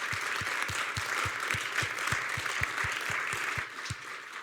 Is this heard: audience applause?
yes